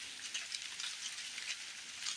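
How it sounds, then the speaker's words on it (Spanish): Steady rain patters and hisses on leaves in a dense, even wash of droplets, close by, with no voices, in the Blue Ridge Mountains on the Appalachian Trail. "Está lloviendo"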